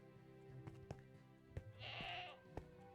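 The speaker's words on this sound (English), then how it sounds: "Hello, goat." A goat bleats in the game Hereafter: one wavering bleat, fairly clear and close, rises over a low ambient game music bed with a few soft clicks around it.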